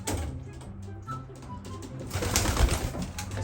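Pigeons coo softly in a racing loft, a low steady murmur of several birds close by with no talk over it.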